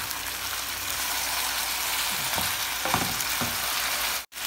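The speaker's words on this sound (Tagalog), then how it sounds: "Then, lalagyan na natin ng sabaw." Broth poured into sizzling chicken and pork adobo, setting off a steady loud frying sizzle with a few clinks and stirring scrapes partway through and a brief cut near the end.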